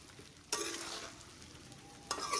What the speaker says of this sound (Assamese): বগৰীখিনি মিডিয়াম ফ্লেমতে মই ভাজি লৈছোঁ।